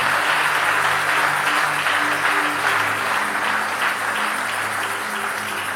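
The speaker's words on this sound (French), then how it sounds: "Acclamez très fort pour la parole du Seigneur." A church audience gives loud, sustained applause with some cheering, a dense steady clatter of clapping that fills the hall throughout without a break.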